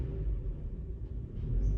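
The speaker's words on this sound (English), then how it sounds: "Give it a couple tap on the gas." Kia Sorento engine with a rich-at-idle fault, running steady with a deep low rumble and a slight swell as the gas is tapped near the end, heard close and alone.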